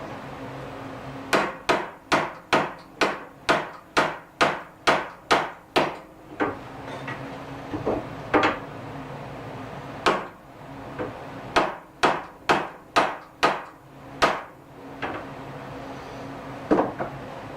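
A glaive blade is hammered flat on an anvil: a fast run of about a dozen sharp, ringing metallic strikes, a few isolated blows, then another quick burst of strikes, close and loud with no talk.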